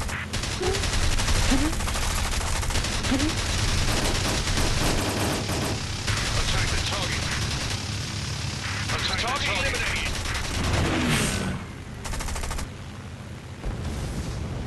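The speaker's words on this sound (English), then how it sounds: "Taking heavy fire." Gunfire in the aerial combat video game War Wings: dense, continuous rattling bursts of machine-gun fire with booming hits, loud throughout, with game voice callouts mixed in.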